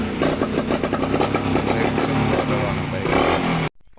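Motorcycle engine running at a petrol pump, a loud continuous rumble with pulsing revs that stops abruptly near the end, with voices in the background.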